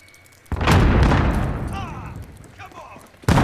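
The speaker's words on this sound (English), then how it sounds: "Throwing grenade." A grenade blast in Call of Duty: Modern Warfare lands as a loud boom about half a second in and rumbles down over several seconds. Game voices and effects sound beneath it, and a second sharp burst hits at the end.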